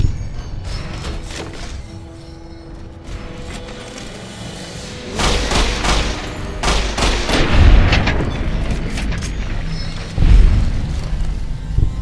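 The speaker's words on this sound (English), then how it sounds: "I just heard a bunch of gunshots, but maybe I'm just jumpy." A rapid burst of gunfire in the video game Fallout: New Vegas, heavy booming thuds, loud and close, repeating in clusters over a steady background rumble.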